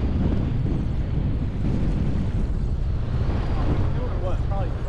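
Strong wind buffets the microphone in heavy, continuous gusts on a fishing boat on the California Delta, with faint voices and water noise beneath the roar.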